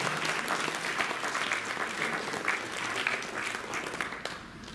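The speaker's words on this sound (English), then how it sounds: "Let's give him a round of applause." Audience applause at a Tulsa University comedy show: dense, sustained clapping from a large crowd filling the room, steady throughout and tapering slightly at the very end.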